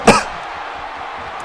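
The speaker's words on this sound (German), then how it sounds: "voll Husten gerade bekommen." One sharp, loud cough close to the microphone from a gamer playing WWE 2K17, then a quiet background hum with no talking.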